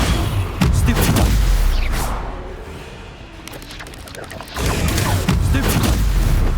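Spell casting in Hogwarts Legacy, with loud booming blasts and crackling impacts at the start and again near the end, separated by a quieter middle stretch.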